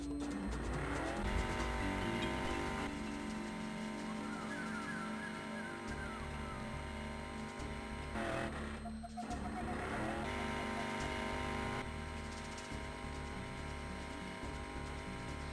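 Monster truck engines roar steadily from start to finish while racing in the Nintendo DS game Bigfoot: Collision Course, the loud droning revs shifting pitch, with tire squeals and a brief dip and surge near the middle.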